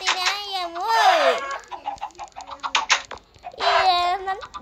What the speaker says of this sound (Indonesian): Kebanyakan ayamnya, woi.